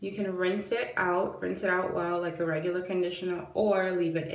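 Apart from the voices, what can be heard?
No distinct noise like a dog, phone or traffic.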